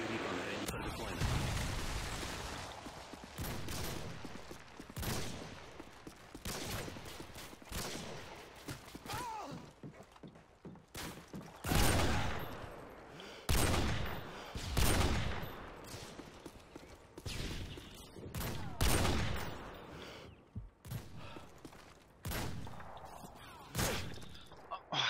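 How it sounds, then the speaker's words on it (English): Scattered gunshots and explosive blasts from a Modern Warfare 2 match with an incoming predator missile strike, sharp bursts and booms spread through the clip over continuous game noise, with a voice talking at points. "Friendly predator missile inbound."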